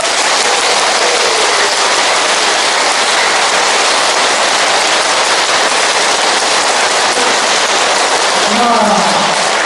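A packed lecture audience claps as fast as possible in a timed counting contest during a Lenten special lecture, making a loud, dense, unbroken roar of hand claps that lasts the whole stretch, with voices faintly mixed in.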